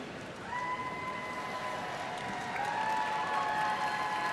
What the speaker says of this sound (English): I'm sure that cheering probably sounds a lot louder to them.